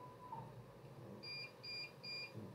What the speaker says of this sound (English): Hear the beep, beep, beep, and that tells me that my system's in focus.